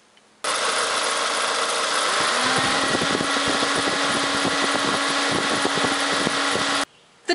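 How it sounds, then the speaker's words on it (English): A car engine idles steadily with one of its two radiator cooling fans, the driver's side unit, not working; a continuous mechanical whir and engine hum hold at an even level throughout, with no talking. "The driver's side cooling fan on this vehicle is no longer working"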